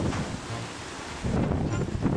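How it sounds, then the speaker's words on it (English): Hurricane wind roars steadily against the microphone outdoors, swelling into a stronger gust near the end, with a dull rumbling buffet and no talking. "Let's see if we can get a wind gust to knock my ass down."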